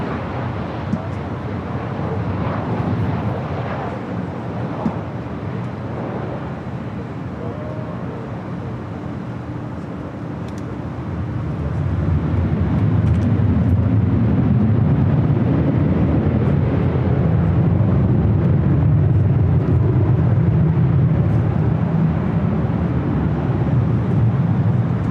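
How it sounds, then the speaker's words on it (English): A Delta jet rolling for takeoff on runway 24 left at LAX, a distant, muffled roar that swells into a steady, heavier rumble halfway through and holds, with wind noise throughout. "runway 24 left, clear for takeoff, Delta 494"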